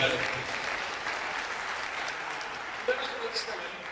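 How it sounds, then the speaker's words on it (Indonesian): Lively audience applause in a church, a dense, steady wash of clapping from a large congregation, slightly reverberant and continuous for several seconds with faint voices mixed in. "Tepuk tangan yang meriah."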